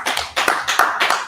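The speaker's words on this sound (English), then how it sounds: "Clap it up one more time." Several bursts of hand clapping from a church class audience, four quick rounds of claps in a row, close and lively, with no talk.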